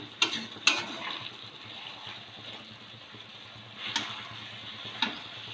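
Meat pieces seasoned with ground and Kashmiri chili cook in a pan, giving a faint low sizzle broken by a few sharp clinks and ticks of a utensil against the pan.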